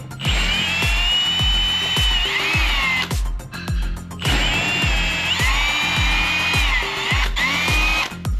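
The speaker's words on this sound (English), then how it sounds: "I'm gonna drill a nice level" A power drill drills into drywall, whining loudly at high speed, pausing briefly midway before spinning up again, with rhythmic low thumps throughout and no talking.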